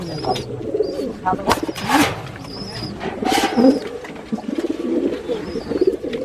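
Pigeons at a high-flyer pigeon farm coo in soft repeated throaty phrases, with brief chirps and wing rustles mixed in, close by and fairly steady throughout.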